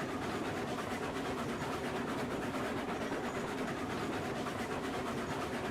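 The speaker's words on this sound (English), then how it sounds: "We've got plenty of sound today, running trains." A Cooke Mogul steam locomotive hauling a long train of cars down a steep grade in the Railroads Online video game, a steady rolling rumble of wheels and machinery with faint rhythmic clatter, continuous and fairly quiet with no talk.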